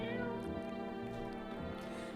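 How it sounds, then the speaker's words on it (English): A cat meows in a video game, several drawn-out mewing calls over steady game music, with no talk. "Let's pick up the cat."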